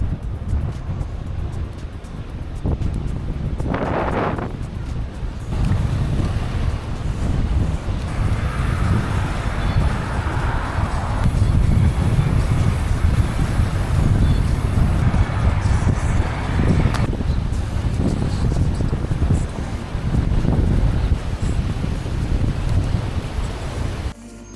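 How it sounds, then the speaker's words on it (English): A strong headwind buffets the microphone of a cyclist touring Jeju Island along the ocean, with roaring gusts rising and falling over a steady rush of surf and occasional passing traffic. "This headwind is making it a tough grind."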